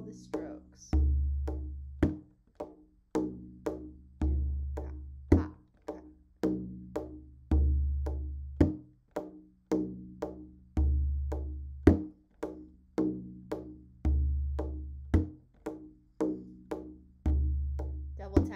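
Hand drum played in a repeating five-stroke pattern mixing deep bass strokes with sharp slaps and light finger taps, each phrase ending on a crisp accent before a short pause, close and alone.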